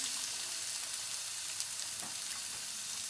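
Food being sautéed in a pan gives off a constant close sizzle, an even bright hiss with faint crackles and no talking.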